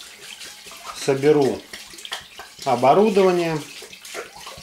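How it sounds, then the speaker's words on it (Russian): Water is poured into a distilling pot holding home-made spirit for a still, a steady splashing rush running under a man's close speech. "Залью воду,"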